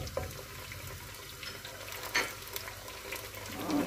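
Chopped tomatoes frying in a pan for mixed vegetable sabzi, giving a soft, steady sizzle with light stirring and clinks, moderately near and without talk.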